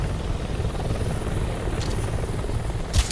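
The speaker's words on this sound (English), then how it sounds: "you got that stupid Hind helicopter flying around that could make this area really dangerous if you're not careful" A Hind helicopter flying in the video game Metal Gear Solid Delta, a steady low rotor drone with a constant thudding rumble, with a couple of brief sharp clicks near the end.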